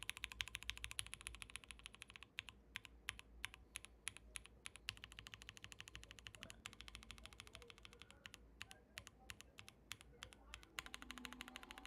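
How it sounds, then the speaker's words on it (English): Rapid typing on a mechanical keyboard built without plate foam, giving dense clicky keystrokes with a thin metallic ping, steady and close throughout. "The omission of the plate foam has introduced some rather unpleasant metallic pingy sounds."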